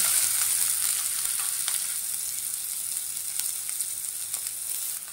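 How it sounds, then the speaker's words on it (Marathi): Finely chopped onion frying in about two spoons of oil in a kadhai, a steady close hiss and crackle with faint scattered pops, continuous and alone with no voices. "तर आपण कांदा चांगला भाजून घेऊया"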